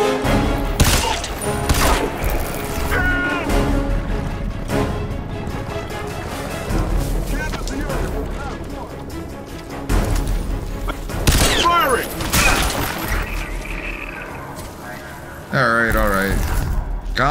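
Bursts of heavy gunfire from a hard-kicking weapon in Crysis 3 Remastered crack through a dense, noisy battle mix, with booms and mechanical clatter, loud and close, while voices talk over the action.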